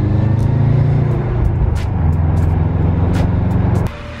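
A Subaru car pulls away in first gear, its engine droning loud and close with a steady low hum and interior rattles and taps, before the note drops off near the end.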